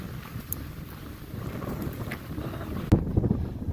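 Strong winter wind buffets the microphone on a 13,117-foot Colorado mountain summit, a steady loud roar with gusts and a harder blast near the end.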